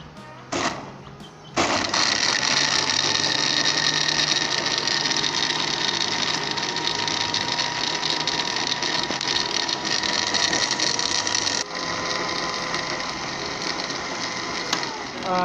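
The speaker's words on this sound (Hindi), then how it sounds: "चलो दोस्तों आप इसे अच्छे तरीके से ब्लेंड कर लें।" An electric blender whirs loudly and steadily while blending falsa fruit into juice, starting up after a brief lower hum and running continuously with a slight dip in tone near the end.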